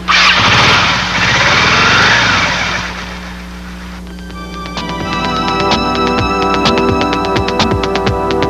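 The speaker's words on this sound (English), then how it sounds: "Each day Leo leaves for work, usually sometime after noon, on his trusty motorcycle" A motorcycle engine idles and runs steadily up close for several seconds, a loud throbbing drone that dips in the middle before rising again with a harsher, buzzier tone.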